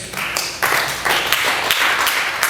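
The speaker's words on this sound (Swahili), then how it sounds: "Piga makofi kwa Bwana Yesu." Church congregation at a Sunday evening service clapping hands, a fairly loud, close patter of many overlapping claps in an irregular, sustained rhythm.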